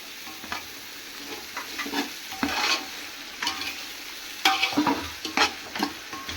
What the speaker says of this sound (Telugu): వేగేంత వరకు తిప్పుకుందాం ఫ్రెండ్స్, లేకపోతే మాడిపోతుంది కదా.